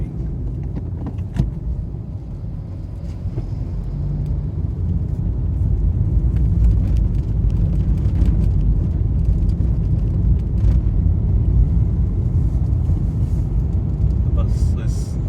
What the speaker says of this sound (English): Bus coming.